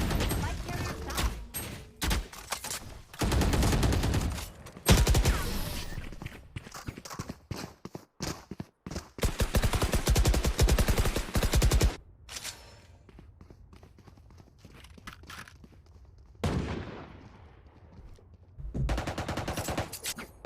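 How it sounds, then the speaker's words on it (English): Gunfire in the Valorant video game aimed at a wall, rapid automatic bursts separated by short pauses, loud and close, with game sounds and talk mixed in. "Just shooting the wall."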